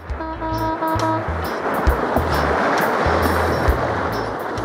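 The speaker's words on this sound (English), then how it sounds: "you don't want to let the waves turn you sideways" Ocean surf crashes and hisses continuously around a kayak riding waves in toward shore, a loud close wash of breaking water with low thumps and brief tonal beeps early on.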